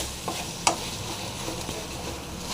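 A plantain stir-fry is stirred in a clay pot after the lid comes off: a low, steady sizzle with one sharp clink of utensil against pot and soft scraping.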